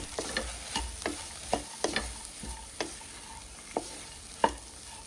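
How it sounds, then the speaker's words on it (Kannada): A spoon stirs crispy fried corn tossed with salt, pepper and vinegar in a pan, knocking and scraping in an irregular rhythm over a steady background sizzle, close up and without talk. "ಒಂದು ಸಲ ಚೆನ್ನಾಗಿ ಮಿಕ್ಸ್ ಮಾಡಿಕೊಳ್ಳುವ"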